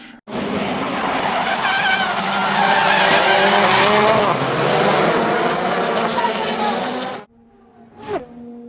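A race car skids on a motorsport track with a loud, sustained tyre squeal and engine roar lasting about seven seconds, then cuts off abruptly, leaving faint background noise.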